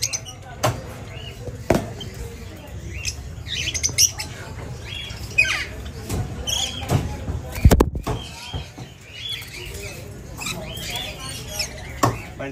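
A pair of Swainson's lorikeets sit close by and give repeated sharp, harsh squawks and chatter in irregular bursts, with someone talking over them.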